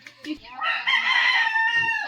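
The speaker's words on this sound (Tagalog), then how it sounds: "Narang chicken ni Kuya oh." Chicken at a family home in the Philippines letting out a loud, close, drawn-out squawking cluck after a few soft sounds, with faint voices in the background.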